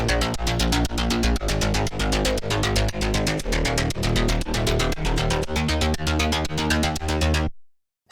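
Punchy synth bass line from a song pulses fast and steady in a driving, repetitive groove with bright, buzzy attacks. Loud and continuous for about seven seconds, then it cuts to silence.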